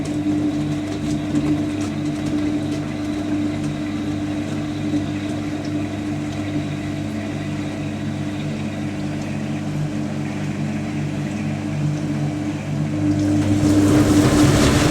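Zanussi Jetsystem Excel top-loading washing machine on an intermediate spin around 1,000 RPM, a steady droning hum with a low rumble, rising louder and rougher in the last seconds, heard up close with no talking.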